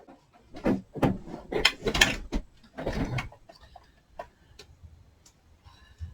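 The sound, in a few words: embossing machine cranking an embossing folder through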